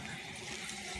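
In a flooded basement, a sump pump pours water at full flow into its basin, a steady rushing gurgle that is moderately faint and continuous, with no voices.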